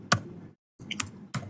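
Keys clack on a computer keyboard in a few quick, close taps separated by a short silence, crisp and moderately loud with no talking over them.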